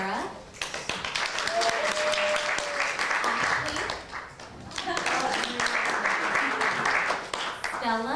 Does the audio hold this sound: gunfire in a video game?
no